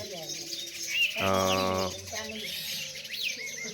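A bird gives short calls while pecking at grain near a house, with a brief harmonic coo-like note and scattered high chirps over low background noise.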